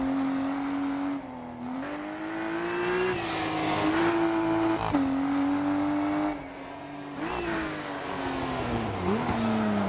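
A BMW M2 Competition engine in the racing game Dirt Rally 2.0 drones loud and steady, its pitch climbing and dipping through gear changes and lifts as the car is driven hard, with faint tire noise underneath.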